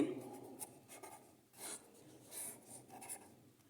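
A marker or chalk scratches math onto a board in short, faint strokes with pauses between, a quiet rubbing rhythm heard on its own.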